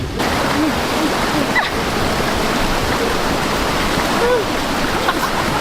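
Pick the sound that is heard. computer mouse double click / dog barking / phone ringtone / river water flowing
river water flowing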